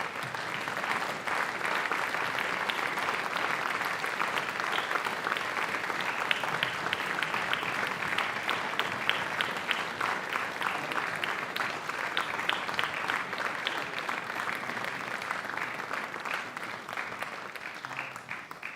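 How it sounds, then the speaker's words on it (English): An audience at a high school fall band concert claps steadily as band and choir students leave, a sustained even patter of many hands at moderate distance, unbroken for the whole stretch. "you can clap, that's all right"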